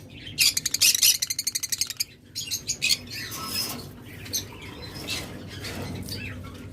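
Pet birds offered for sale, chirping and twittering in bright rapid trills near the microphone, with squawks and fluttering wing sounds, busy and fairly loud throughout.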